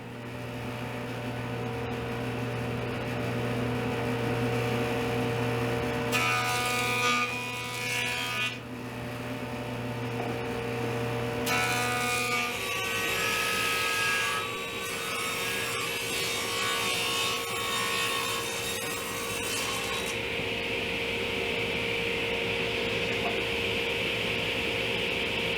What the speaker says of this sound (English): I'm going to trim the one side down on the joiner, then bring it over to the table saw and cut it to size